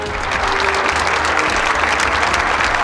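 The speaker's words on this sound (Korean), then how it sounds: "큰 박수 부탁드립니다" A crowd at a government signing ceremony for a Chungcheong region advanced-industry vision breaks into loud, continuous applause that holds steady throughout.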